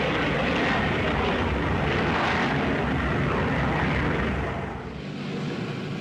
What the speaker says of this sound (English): Now the Victor, Britain's crescent-wing bomber. Powered by 4 Sapphire jet engines